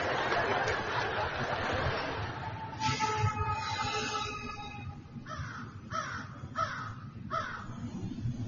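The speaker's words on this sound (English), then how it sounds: "I live very close to a train station here." Near a train station, a train rumbles and rolls steadily in the background while crows caw repeatedly in short bursts close by.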